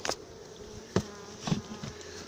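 Honey bees buzz around a nuc hive being prepared for winter, a soft close hum broken by a few louder fly-by bursts, with no one talking.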